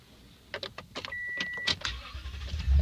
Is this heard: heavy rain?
no